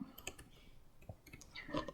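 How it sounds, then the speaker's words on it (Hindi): Computer keyboard typing during Excel formula entry: a handful of light, scattered key clicks at close range over faint room noise, with no talk. "कीबोर्ड से टाइप करूँगा इक्वल"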